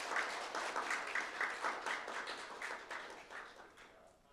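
An audience at a privacy forum meeting claps in a steady round of applause for an appointed committee member, fairly faint and gradually fading out.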